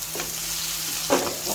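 Chopped tomato sizzles in a hot pan, a continuous close frying hiss with brief louder bursts as it is stirred, heard alone without speech.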